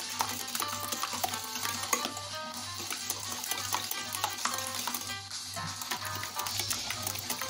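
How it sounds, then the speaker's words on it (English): Steady stirring of castagnole fritter dough ingredients, with continuous scraping and light clinking and a constant low hum underneath, moderately loud and with no voices. "So I start by mixing thoroughly."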